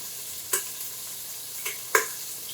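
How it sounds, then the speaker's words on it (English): Rice toasting in butter in a pot while being stirred: a soft, steady sizzle runs underneath, broken by three brief, sharp utensil scrapes against the pot at uneven intervals, close and fairly quiet, with no one talking. "I have some butter in my pot right here. I'm just gonna put the rice right in."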